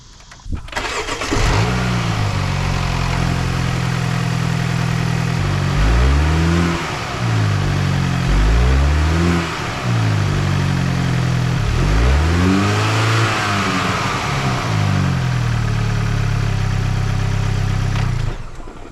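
A Mini Cooper JCW turbocharged engine fires up, then revs repeatedly in several rising and falling bursts before settling back to a steady idle, loud and close with no talking.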